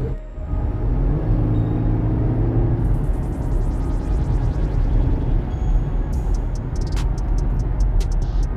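A 2020 Jeep Grand Cherokee Limited X accelerates, its engine rumble building steadily and loud from inside the cabin, with whirring tones and faint ticking clicks near the end and no one talking.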